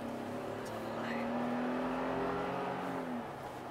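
A 2019 Ford Ranger or Chevy Blazer accelerating on a test drive, with a steady engine drone rising in pitch for a few seconds, heard from inside the cabin.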